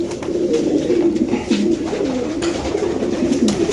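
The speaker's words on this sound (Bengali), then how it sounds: "সবগুলি একজনের কবুতর।" Racing pigeons at a club member's loft coo in a continuous overlapping chorus of low, rolling calls close by, loud and dense with no voices.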